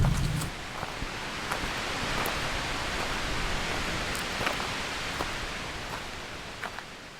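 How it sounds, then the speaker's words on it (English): Wind blowing steadily outdoors, a broad, rushing roar with occasional faint rustles and soft gusts, no voices. "It's really nice here, but really windy."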